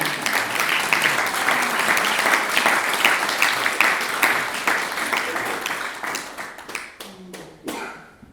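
Audience applause after a workshop performance of a heritage magic lantern show, a sustained wash of clapping from a full room that thins into scattered claps before fading out.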